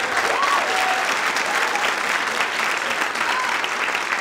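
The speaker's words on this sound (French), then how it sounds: "Ce sont des applaudissements bien mérités" An audience applauds at a school show at École Marguerite-Bourgeoys, loud sustained clapping from a large crowd that fills the whole stretch without pause.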